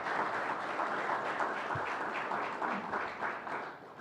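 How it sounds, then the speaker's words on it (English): Faint, distant applause from a banquet audience at a Hall of Fame dinner, a soft continuous patter of many hands clapping. "Can we give all of those companies a round of applause for their support tonight?"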